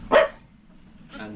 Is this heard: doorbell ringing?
no